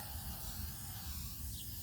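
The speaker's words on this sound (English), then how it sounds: "the spray works pretty good compared to what I'm used to" Steady, faint hiss of a spray can laying Brownell's Aluma-Hyde II paint onto a rifle, a continuous airy spray with no pauses and no talking.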